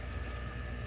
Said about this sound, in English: it's going down here, down this hose, into the tank, the sump, through the filtration, which cleans the water